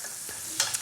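Cabbage seasoned with salt and pepper sizzles in a pan, a steady soft frying hiss with two quick scraping stirs close by.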